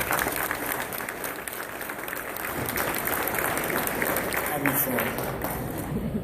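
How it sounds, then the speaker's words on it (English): Audience applause at the grand opening of the Golden Nugget in Lake Charles, greeting Mr. Ronnie Jones as he steps up to speak: dense, steady clapping from a large crowd that holds evenly for about six seconds. "So how about a big round of applause for Mr."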